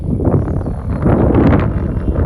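Strong wind buffets the microphone near a bridge in the Amazon basin, a loud low rumbling roar that surges and swells steadily throughout with no other clear sound.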